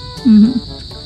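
A short, loud low-pitched cricket chirp or trill rises briefly over a faint steady insect buzz outdoors among trees, lasting about a third of a second.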